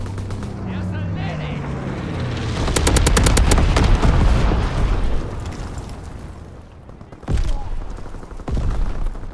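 Explosions and bursts from an incendiary bombing run in the World War II shooter game Call of Duty: WWII, a dense rumbling barrage with rapid crackling pops, then fading, followed by two more heavy blasts near the end.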